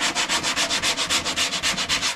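Bondo body filler is sanded by hand on a smashed car quarter panel, with about a dozen even back-and-forth rasping strokes in a quick steady rhythm, close and alone.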